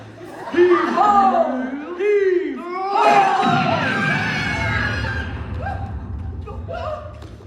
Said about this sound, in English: What was that scream?